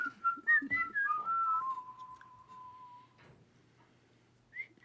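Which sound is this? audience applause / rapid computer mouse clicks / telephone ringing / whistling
whistling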